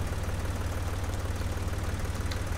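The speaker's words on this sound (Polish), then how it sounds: "O, jedzie traktorek." A tractor engine in the Farming Simulator 2014 video game runs with a steady, loud, low rumbling drone and an even rhythmic throb throughout, with no voices.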